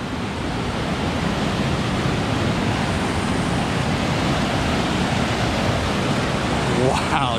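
Colorado River rapids at Hermit Rapids in the Grand Canyon roar in a steady, dense rush of churning whitewater, loud and close throughout, with no voices heard.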